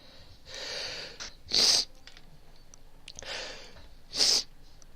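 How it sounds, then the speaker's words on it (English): Two quick, sharp sneezes, each preceded by a breathy inhale, spaced a few seconds apart and fairly close, in an otherwise quiet indoor setting. "Sorry, I was sneezing."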